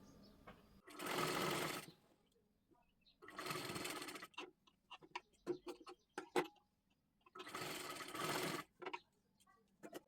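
A sewing machine stitches blouse fabric in three loud bursts of fast, rhythmic running, with clicks and handling taps in the pauses between them and no clear talk.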